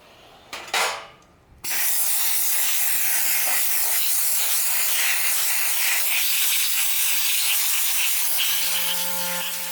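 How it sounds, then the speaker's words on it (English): Abrasive blasting with 100 grit aluminum oxide driven by an air compressor at 90 psi, a loud steady rushing hiss that starts abruptly after a couple of brief bursts and runs on continuously. "I'm going to blast with 100 grit aluminum oxide"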